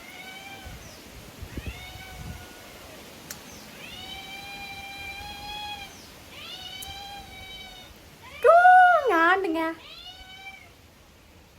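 A house cat meows repeatedly near a person eating a crab gravy meal at home. Several drawn-out mews come at steady intervals, then a louder cluster of sharp, wavering cries. Brief speech and faint household noise sit underneath.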